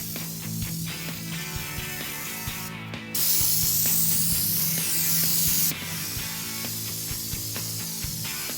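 A spray gun applies U-POL Raptor black bedliner coating, heard as a steady, loud hiss lasting a few seconds amid ongoing mechanical clicking and ratcheting noise in a workshop.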